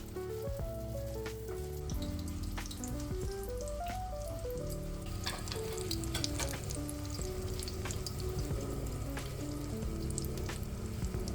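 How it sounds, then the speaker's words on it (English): Tortang talong, a Filipino eggplant omelette, fries in hot olive oil over medium heat, giving a steady, crackling sizzle that runs throughout beneath a gentle background melody. "Once the oil is hot enough, it's time to cook our Tortang Talong."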